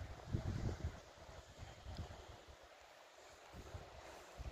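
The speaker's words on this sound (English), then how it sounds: "It's getting really windy." Wind gusts outdoors on a camping hike in Snowdonia, faint rumbling buffets against the microphone that rise and fall in uneven bursts.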